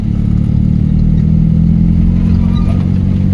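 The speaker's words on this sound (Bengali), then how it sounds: "আবার হালকা অ্যাক্সেলেটার" A car engine holds a light throttle, giving a steady, close mid-pitched drone with a faint clatter and no real rise or fall, and no one speaks.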